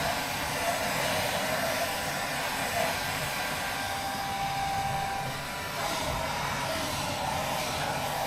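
A Panasonic hair dryer blows steadily on wet, wrung-out clothes, a loud continuous whooshing roar that barely changes across the whole stretch, with no voices.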